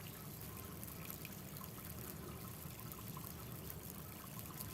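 Water flowing down the sloped surface of a ventilated terrace toward its drain, a faint, steady trickle with no pauses and no voices.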